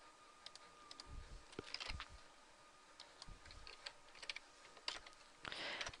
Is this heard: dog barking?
no